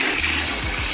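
Hot water sprays from a nozzle over aquarium driftwood and stone, giving a brief, loud, steady hiss of spray.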